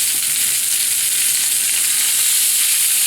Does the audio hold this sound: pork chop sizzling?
yes